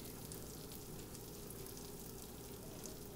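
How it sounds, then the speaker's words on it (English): Butter melting in a pan on the stove, a faint, even sizzle with fine crackling that holds steady throughout without pauses. "I'm gonna let the butter melt a little bit"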